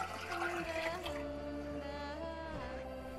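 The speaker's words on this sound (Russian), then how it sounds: "заливаем холодной водой и ставим на огонь" Cold water pours and splashes into a pot, a rushing flow with a rising ringing tone as it fills, close by and fairly quiet.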